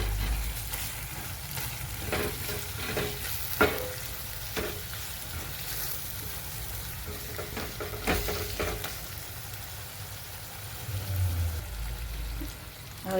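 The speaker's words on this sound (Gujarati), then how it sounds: "હવે આપણે હલાવી દઈએ." Spices such as chilli powder, turmeric, coriander-cumin and garam masala frying in a pan for pav bhaji, with a soft continuous sizzle and scattered scraping clicks from a spoon stirring the mixture.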